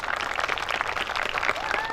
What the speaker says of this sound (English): Let's give a big round of applause to Senator Fong Her.